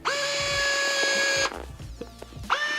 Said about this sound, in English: The lower one is to loosen, and the upper one is to tighten.